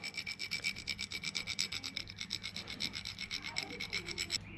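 A 1.5 mm thread file cleaning up a damaged thread on a Landcruiser F135 engine part, making quick, even rasping strokes, close and fairly quiet, continuing steadily for several seconds before stopping.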